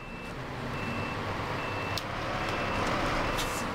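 Reversing beeps sound from a truck backing up to hitch a trailer in the off-road driving game SnowRunner, a steady rhythmic beeping over a continuous loud engine rumble, no talking.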